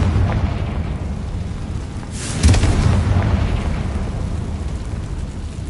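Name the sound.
Confringo spell explosion in a video game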